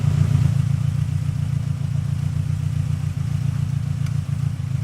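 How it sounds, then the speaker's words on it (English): A Volkswagen Cabriolet's small engine idles close by with a steady, low, chugging putter that continues throughout without revving; the car has a suspected throttle problem. "At least it's idling."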